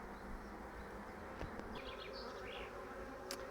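Honey bees hum around an opened hive, a soft, steady, close buzzing drone with a few individual bees passing nearer, faint and continuous throughout.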